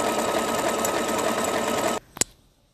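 A sewing machine runs steadily and loudly while stitching fabric for an Easter bunny table decoration, then stops abruptly, followed by a short mechanical clack and near silence.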